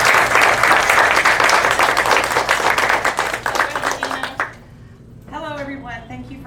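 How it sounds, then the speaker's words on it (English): Audience at an evening community forum applauds two guests with steady, full clapping that thins and dies away before a voice begins speaking near the end. "Can we give them a round of applause?"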